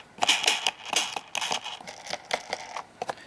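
Wheels of a Dyson Light Ball UK-model upright vacuum cleaner roll across carpet, giving off a string of close, dry clicks and rattles in an uneven rhythm as it is pushed back and forth.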